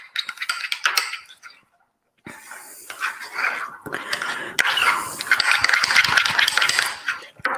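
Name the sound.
mixing cinnamon bun mixture with spoon in bowl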